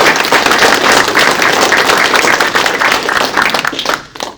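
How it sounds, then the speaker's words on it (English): A town hall audience applauds in a dense, loud burst of many clapping hands that holds steady, then quickly tails off into silence. "Give him a round of applause."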